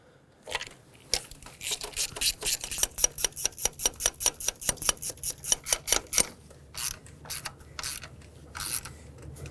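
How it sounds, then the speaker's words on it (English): A ratchet head clicks in rapid, regular bursts while snugging rear valve cover bolts on a 2013-2020 Nissan Pathfinder 3.5L V6, close and crisp, with short pauses between runs of ticking and no speech. "As you can see, I'm only using the head of the ratchet here, so I'm really not applying much pressure."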